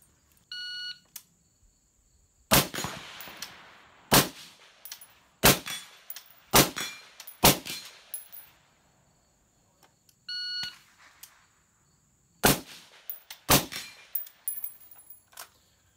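A Colt 6920 rifle fires round after round at an outdoor range, loud sharp reports in quick uneven strings with pauses between, punctuated by electronic beeps, likely from a shot timer.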